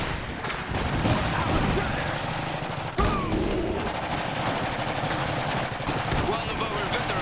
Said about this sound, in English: They set up that MG pretty quick.